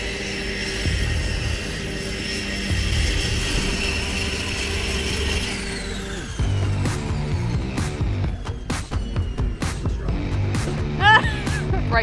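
Steady drone of a propeller aircraft engine near the water at the Horizontal Falls, loud and continuous, then shifting after a few seconds into choppier mechanical clicks and rattles.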